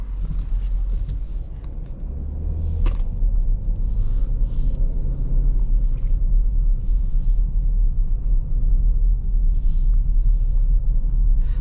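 A 2021 Dodge Durango R/T Blacktop RWD rolls along a bumpy road, with a steady low rumble of engine and tires and occasional thumps and rattles inside the cabin.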